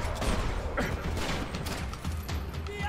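Gunfire in the video game Max Payne 3 erupts in a dense, loud fusillade of rapid overlapping shots and impacts, continuous over a low rumble, with no pause through the burst.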